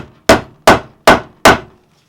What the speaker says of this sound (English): If you need to, you can go ahead and hammer it down a little bit,